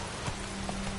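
Roach the horse gallops in The Witcher 3, a short burst of soft hoofbeats over a dense, noisy background.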